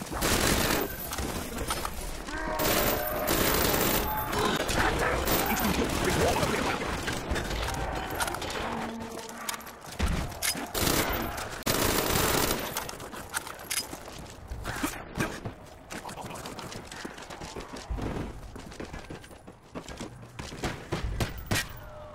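Gunfire in a Call of Duty Black Ops zombies match on the Ascension map, a dense run of sharp repeated shots over game noise that thins out after about ten seconds into scattered bursts.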